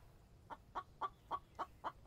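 A chicken in the video game The Infected clucks in a steady series of about seven short, evenly spaced clucks, moderately close and alone.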